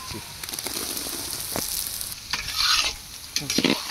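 Chicken pieces frying in a pan for a rambutan chicken curry, a steady close sizzle with intermittent scraping stirs and clinks of a utensil against the pan.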